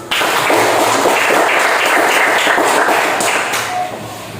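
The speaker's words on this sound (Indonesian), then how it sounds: "Oke, kita tepuk tangan dulu." A classroom full of students clapping their hands together, a loud, dense and steady burst of applause up close that carries on for several seconds before easing slightly.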